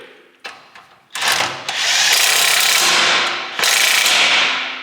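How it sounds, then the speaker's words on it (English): A loud power tool or impact driver runs on brake bolts of a 2015 Ford F-350 during a dirty brake job, starting with a few short bursts and then holding a long, steady near whir with a brief dip near the end. "We're gonna torque this down now."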